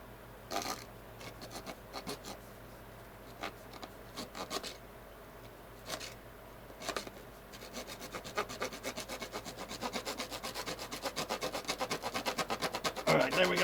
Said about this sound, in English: This saw's not even sawing as well as it's supposed to be.